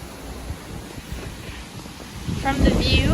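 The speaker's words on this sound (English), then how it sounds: "sorry it's really windy" Strong outdoor wind buffets the microphone with a constant low rumble that grows louder toward the end, and a voice is partly heard over it.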